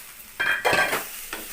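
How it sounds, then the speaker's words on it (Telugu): Coriander leaves fry and are stirred in a pan for a chutney, producing short, close sizzling bursts with a spatula scrape, then a brief fainter stir near the end. "కొత్తిమీర వేగింది కదా"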